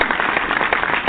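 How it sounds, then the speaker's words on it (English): Crowd applause for a sports team after a win, a dense steady patter of many hands clapping, loud and close for about a second with no talk over it. "Let's give them another round of applause."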